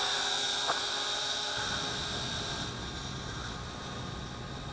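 A Syma X8C quadcopter drone flying at about 75% throttle: a steady, fairly faint high-pitched whine of small propellers and motors, continuous and even, with a slight shift in tone partway through.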